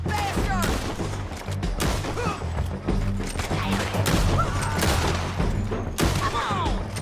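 A Red Dead Redemption 2 shootout: dense, loud volleys of gunshots crack and thud in rapid irregular bursts, with shouted voices breaking through the barrage.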